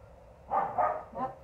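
Two or three quick, high little barks from a young dog, close by, in a short burst over quiet background.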